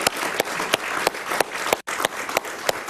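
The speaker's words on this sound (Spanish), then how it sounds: "Un aplauso para Diego Arria" A Spanish-language television talk show studio audience claps steadily, a dense, even wash of applause lasting throughout with one brief dropout, and no speech over it.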